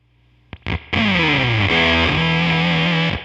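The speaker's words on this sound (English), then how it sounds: "This is what fuzz sounds like to me in my head" A guitar played through a Beetronics Swarm fuzz pedal turned all the way up. After a couple of short plucks, a loud, sustained, buzzing fuzz tone rings out steadily, with the pitch sliding between notes.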